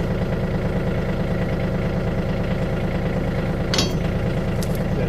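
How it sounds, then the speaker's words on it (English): A tractor fitted with a backhoe idles steadily at close range, its engine giving a constant loud drone with one brief metallic clink partway through. "Alright, so the tractor's on."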